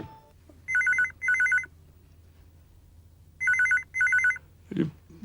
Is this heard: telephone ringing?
yes